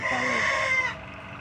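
A chicken's drawn-out clucking call, fairly close, ending abruptly into quiet outdoor background.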